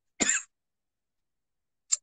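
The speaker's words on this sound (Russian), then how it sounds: "Кашлянуть уже нельзя." One short, sharp cough close to the microphone, then a long silence and a tiny second throat sound at the end, during a live broadcast.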